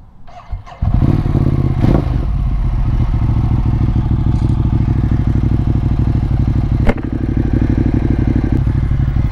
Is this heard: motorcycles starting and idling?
yes